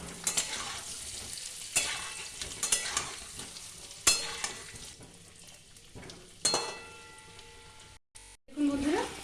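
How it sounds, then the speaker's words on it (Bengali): Potatoes fry in a pan with turmeric and Kashmiri red chilli powder for aloo dum, a steady sizzle broken by sharp scraping stirs and clinks of a utensil against the pan, with a voice talking briefly near the end. "আমি কিছু কিছু করে আলু একসাথে করে করে ভেজে নেব।"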